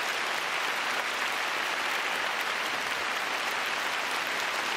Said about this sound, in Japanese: 三原舞の笑顔にこの拍手が注がれます。